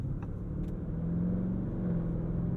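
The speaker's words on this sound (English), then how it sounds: "That was maybe a quarter throttle, and it quickly got us up to the speed." A 2021 Lamborghini Urus pulls away at light quarter throttle, a smooth low engine rumble with a gently rising tone heard from inside the cabin, steady and moderately quiet with road noise underneath.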